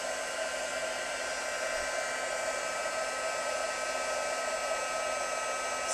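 A heat tool blows steadily over embossing powder on a Christmas shaker card, a constant close whirring hiss of fan and air with no speech.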